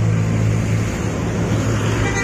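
A Gunung Harta bus bound for Madura pulls away from a crowded bus agent area at Pasarbo in the morning, a steady low engine rumble blending with busy traffic noise, loud and continuous.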